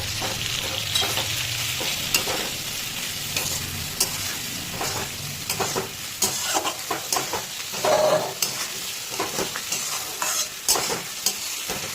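Masala paste with ginger stir-fries in a pan over a high gas flame for a pabda fish curry, with a steady sizzle broken by repeated sharp scrapes and knocks of a spatula.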